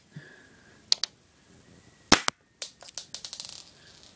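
A homemade BB gun fires at a cardboard box stuffed with papers: two sharp cracks early, then a loud single shot near the middle, followed by a quick run of smaller clicking impacts.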